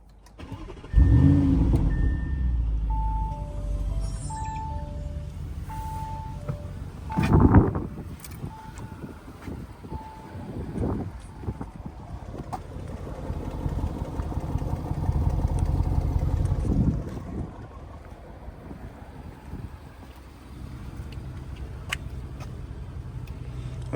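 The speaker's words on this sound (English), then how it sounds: "So I'm going to start it up and let you guys hear how it sounds." An Audi SQ7 engine cranks and fires up, then settles into a steady idle with a couple of blips in revs, heard close and alone with no talking.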